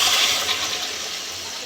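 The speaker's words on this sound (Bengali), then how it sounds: "গরম জলটা দিয়ে দেবো।" Hot water pours into a pan of fish head and potato curry, a steady rushing splash that stays loud and fairly even for under two seconds, with no talking.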